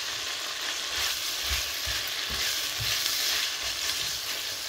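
Okra and green chilies fry in ghee over high heat, giving a steady crackling sizzle broken by soft, irregular thumps and scrapes of stirring, and no voices.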